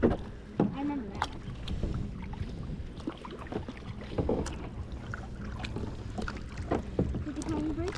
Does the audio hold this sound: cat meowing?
no